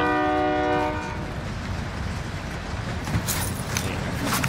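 Train horn sounds loud and steady for about a second, then gives way to the rumble and rattle of a moving train in Call of Duty: Cold War Warzone, with sharp bursts near the end.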